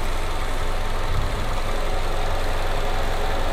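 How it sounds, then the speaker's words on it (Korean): A Nissan Altima with a 2.5-litre engine idles in the open engine bay, a loud, close, steady low hum with an even, unchanging rhythm. "엔진 소리 역시도 매우 일정합니다"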